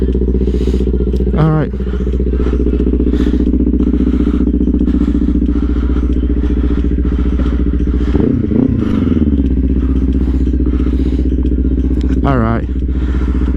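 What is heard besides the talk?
Kawasaki Ninja 500 motorcycle engine idling while warming up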